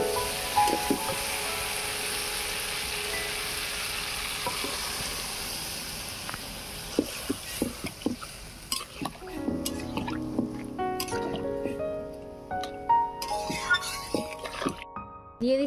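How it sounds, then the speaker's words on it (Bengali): Water is poured into a pan of frying potato and eggplant, shifting a steady sizzle into bubbling, clinking liquid sounds with scattered drips. A voice talks over the cooking throughout. "এবারে পরিমাণ মতো জল দিয়ে দেবো।"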